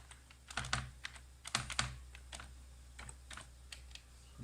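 Fingers type on a computer keyboard while installing a printer on Ubuntu, making quiet clusters of quick clicks with short pauses over a steady low hum.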